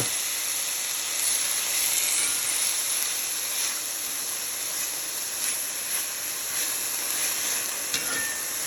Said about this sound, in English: Saute for 5 minutes.